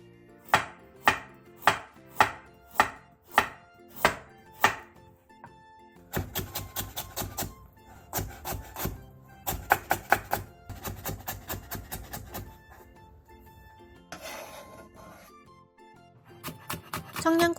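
A knife cuts sheets of fish cake into thin strips on a cutting board, with eight evenly spaced sharp chops, then a faster, denser run of rapid chopping strokes, close and clear.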